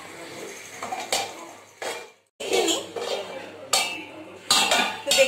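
A metal lid goes onto a pan of fish with green chillies in a home kitchen, giving several sharp clinks and clatters in short bursts, with a brief silent gap midway.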